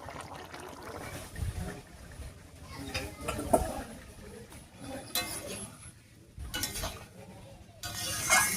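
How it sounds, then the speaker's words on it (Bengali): Tilapia pieces stirred in a cooking pot with a faint clink of utensil against metal, under a low wet sizzle and some quiet background voices. "মাছগুলো দিয়ে একটু নাড়িয়ে নিয়েছি"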